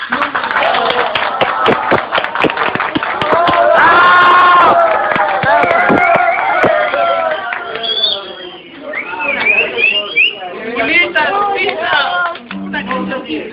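A small gathered audience claps and cheers for a singer, a burst of applause mixed with chatter and voices, rising and fading over several seconds.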